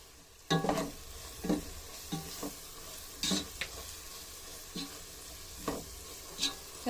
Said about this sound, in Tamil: மிளகாத்தூள் சேர்த்துட்டு கொஞ்சம் வதக்கிக்கோங்க